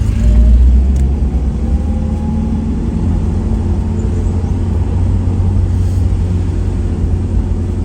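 A car passing on a narrow hill road on the route to Takapala waterfall in Malino, Gowa, a steady low engine rumble heard from inside a vehicle, fairly loud and continuous with no talk.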